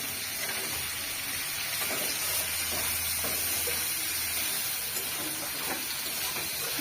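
Fish frying in a pan in a village kitchen, a steady dense hiss and sizzle of hot oil running unbroken throughout, close and fairly loud.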